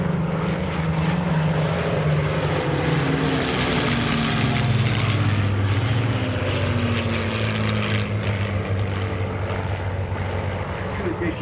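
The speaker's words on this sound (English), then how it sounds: "Here comes the Flight of 5 fighters at the World War II weekend." Five World War II fighter planes fly past in formation at a World War II weekend airshow, a loud continuous propeller-engine roar with shifting pitch as they pass overhead.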